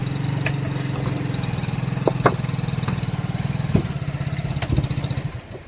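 A motorcycle engine runs at Azhikode Munakal Beach in Kodungallur, a steady, close, throbbing idle with even pulses and a few sharp clicks and knocks over it.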